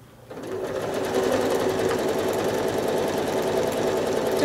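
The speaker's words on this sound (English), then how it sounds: "Now I think I'm going to travel stitch using this perimeter line, the outer line of my block, and get to the next arm." A sewing machine runs steadily while free motion quilting, travel stitching along the outer perimeter line of a slash star quilt block; the even motor hum starts after a brief quiet moment and carries on close and loud without pause.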